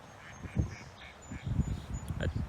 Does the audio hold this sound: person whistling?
no